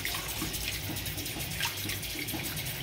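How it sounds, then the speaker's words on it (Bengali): Prawns rinsed under a running tap for Bengali chingri malaikari, a steady, close splashing rush of water that runs without pause. "পুরো জলে ধুয়ে নিচ্ছি আমি, পেটগুলো একটু পরিষ্কার করে ধুয়ে দিচ্ছি।"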